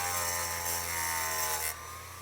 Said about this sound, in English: It's just a little grinder.